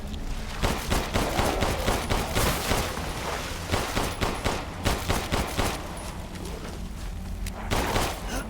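Rapid, repeated gunfire in the survival horror game Resident Evil 8, loud, steady bursts of shots in quick succession throughout, with no one talking.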